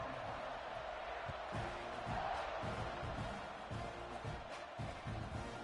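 A football stadium crowd cheering at kickoff in a UNC versus Kentucky game, a broad, distant roar of many voices swelling and rumbling with scattered thumps underneath.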